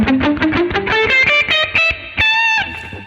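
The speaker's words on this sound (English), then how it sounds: "We're just playing the blues scale down from the G here with palm muted technique" An electric guitar with soft distortion plays a palm-muted blues scale, descending from G in a quick run of short, choppy muted notes that end in a few longer sustained tones, loud and up close.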